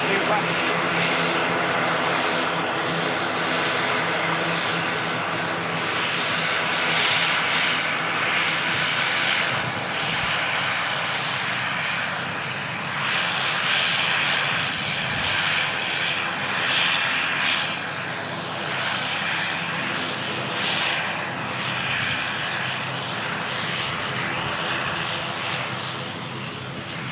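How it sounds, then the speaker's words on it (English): A propeller aircraft taxis past at Manchester Airport, its engine droning loudly and steadily with rising and falling swells as it moves, while a person talks over it. "we'll capture this prop taxiing past"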